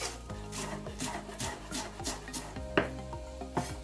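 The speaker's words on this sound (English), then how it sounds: "Just slice it as thinly as you can." A knife slicing lettuce thinly on a board for a chicken sandwich, a rapid series of crisp scraping cuts in an uneven rhythm, close and moderately loud, with a sharper chop near the end and no voices.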